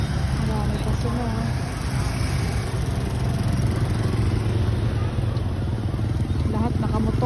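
Motorcycles riding along a road at going-home time, a continuous loud rumble of mid-range engines passing close by one after another, with traffic noise filling the whole stretch.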